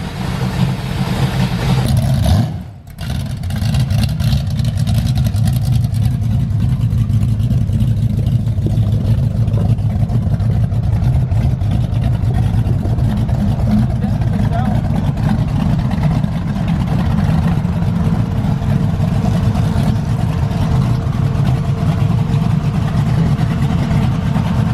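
A 1968 Chevrolet Camaro fitted with a Holley EFI Sniper fuel-injection system drives with its engine running loud and steady throughout. The rumble dips briefly near the start, and no one speaks.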